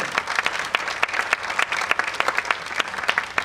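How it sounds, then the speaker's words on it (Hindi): An audience at a theatre event applauds, with brisk, fairly close hand claps forming a continuous patter with distinct individual slaps. "मैं अनुरोध करता हूँ आप जोरदार तालियों में अपना स्वागत करें।"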